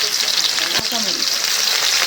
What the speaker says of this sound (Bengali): পেঁয়াজ মরিচটা ভাইজে নিলাম।